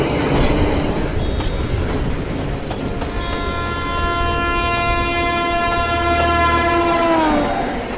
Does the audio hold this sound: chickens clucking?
no